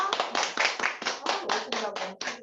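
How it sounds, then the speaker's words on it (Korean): A lecture audience applauds after a talk on leadership, producing a steady run of even, rhythmic clapping bursts that are close and fairly loud, with voices blending into the noise. "모두 박수 한번 칠까요?"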